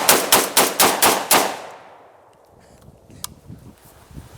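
Rapid magazine dump of gunfire at an outdoor shooting range: six loud, evenly spaced shots in quick succession, then fading echo and faint scattered sounds afterward.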